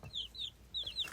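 A buff baby chick gives four quick, high-pitched chirping peeps in two pairs, close and clear against a quiet background.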